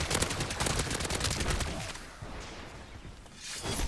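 Rapid, continuous weapon fire in the video game MW3 Zombies from a recoil-free gun, loud and close, with a brief lull before the shooting picks up again.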